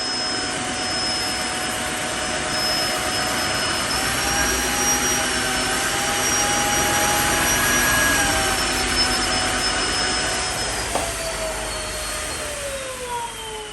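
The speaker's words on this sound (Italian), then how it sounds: "L'aspirapolvere ha riconosciuto la presenza dello sporco, ha aumentato in automatico la sua potenza e ha pulito perfettamente il pavimento" A Tineco Floor One S3 cordless wet-dry vacuum runs steadily on a coffee stain, a loud whirring hum whose motor pitch slowly shifts as it boosts power, then eases down.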